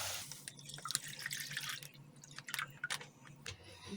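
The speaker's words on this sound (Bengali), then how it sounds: "আমি হাফ কিলো দুধ দিচ্ছি।" Half a kilo of milk being poured into a pan, heard faintly and close as a soft splashing trickle with small drips, easing off and then returning briefly, with no voices.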